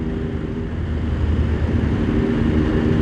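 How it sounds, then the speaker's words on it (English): A Benelli Tornado Tre 900 motorcycle exhaust drones in a smooth, steady, low hum while riding at around 3,000 RPM, with some wind rush mixed in. The sound stays close and holds steady, with no talking. "Lovely exhaust note as well, very non-offensive, very sophisticated."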